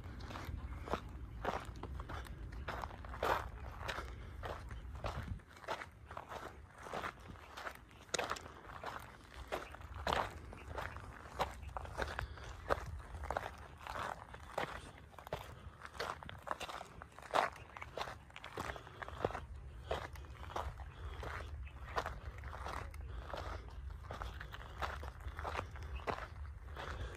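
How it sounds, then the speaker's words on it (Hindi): Footsteps on a rocky trail in the Aravalli Hills, a steady crunching tread on stones and gravel continuing throughout, close and fairly loud in a quiet setting without talk. "इतना साइलेंस है इधर कि आप चलते हो तो आपके पैरों की आवाज़ है वो भी आप सुन सकते हो।"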